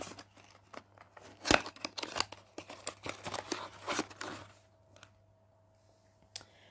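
Unusual cosmetics box packaging being opened by hand, a run of sharp clicks, snips and crinkly tearing in irregular bursts, close and fairly loud, then fading to quiet with a final click.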